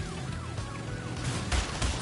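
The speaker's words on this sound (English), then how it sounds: "And I'm running into the police car." A police car siren wails in the Crash Bandicoot 3 Warped video game during an off-road chase, rising and falling steadily over game engine noise, with a couple of louder bumps near the end.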